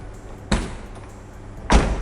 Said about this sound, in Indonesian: Semua pintu tutupnya enak.